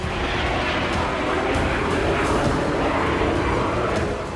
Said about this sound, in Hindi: प्रिगोजिन का प्राइवेट जेट सामान्य तरीके से उड़ रहा था।